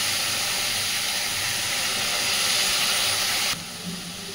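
Spices sizzling in hot oil for a Bengali aar fish curry (tel jhal), a steady close hissing fry that drops slightly in intensity near the end.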